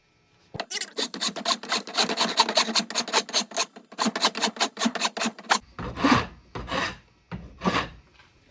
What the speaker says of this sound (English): if I'm capable of doing this with a file